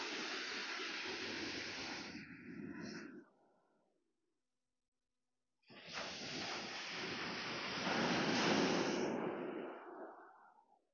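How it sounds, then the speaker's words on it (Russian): Storm waves break on a beach at Gurzuf in Crimea. Two long, hissing surges of water wash in one after another, separated by a few seconds of near silence. No one speaks. "Как волна, да? Одна за одной."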